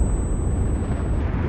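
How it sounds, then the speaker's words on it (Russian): A grenade goes off in the World War II shooter Enlisted, a loud, close, rumbling burst that fills the moment with no talk over it. "Граната же там была, у него прям под ногами."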